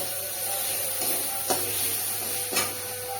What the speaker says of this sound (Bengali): দেখুন আপনারা মশলাটা প্রায় কষানো হয়ে গেছে।